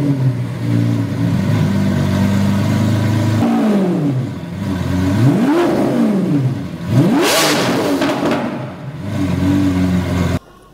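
Car engine starting and revving, loud and close, with a steady idle followed by several rising and falling revs in a rhythmic pattern and an abrupt cutoff at the end.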